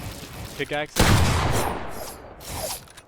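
Rapid gunfire in Fortnite as a player shoots at a building wall, a dense burst of shots and impacts that starts abruptly and rumbles on, with a few short clicks just before it.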